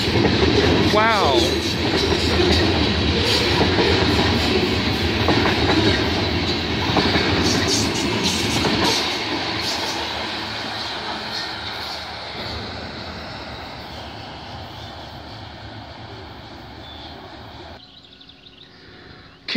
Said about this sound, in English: we got another eastbound CN train at Scotch Block